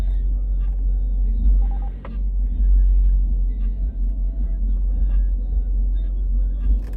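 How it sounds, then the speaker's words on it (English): Deep bass booms from a car stereo in the car right beside a vehicle in Los Angeles street traffic at night, a loud, steady low-end thump that rumbles continuously under the engine noise. "There's a dude bassing right next to me."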